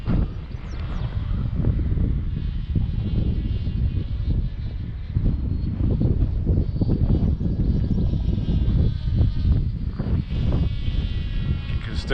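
A ZOHD Dart XL Enhanced FPV wing on its maiden flight buzzes with a steady propeller drone, heavily buffeted by wind noise close to the microphone throughout.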